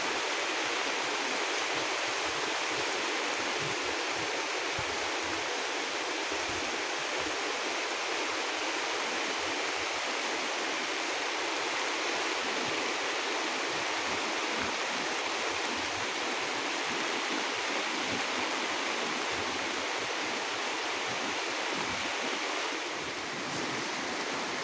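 Constant broad hiss of heavy rain and rushing water during a downpour over a rice harvest, loud and unbroken from start to finish.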